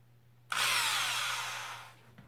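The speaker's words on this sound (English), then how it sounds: "The key is getting this drilled perfectly straight if possible." A power drill bores into a part of an Arrma Senton RC car during a differential upgrade, whirring loud and close for about a second and a half before spinning down.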